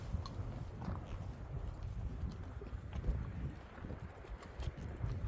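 A horse's hooves clip-clop at a steady walking pace during a horseback ride in Kazakhstan, soft and somewhat distant under low rumbling wind noise on the microphone.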